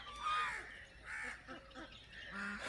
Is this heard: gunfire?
no